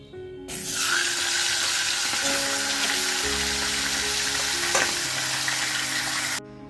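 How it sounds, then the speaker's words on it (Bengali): Fish head frying in hot oil in a home kitchen, a steady close sizzle that runs continuously from start to finish with occasional clinks of utensil against pan. "এখন এই মাছের মাথাটা ভাজবো"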